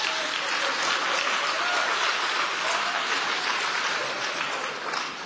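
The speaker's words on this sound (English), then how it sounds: "Now, this is the type of thing you should give an applause to." Summit audience at a Black Business Council gathering breaks into steady, dense applause, loud and continuous for several seconds and tapering slightly at the end, with no voice over it.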